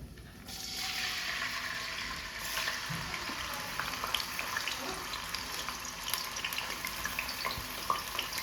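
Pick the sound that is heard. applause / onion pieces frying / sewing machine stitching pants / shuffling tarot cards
onion pieces frying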